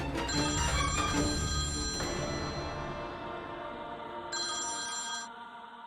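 A telephone rings repeatedly before a call is answered, its steady bright electronic tone sounding continuously over a busy dramatic background score, with a brief higher ringing layer near the end and no speech.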